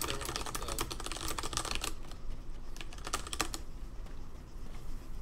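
Rapid keystrokes on a computer keyboard during an online battle royale game session, a steady clatter of close clicks running throughout with no pauses.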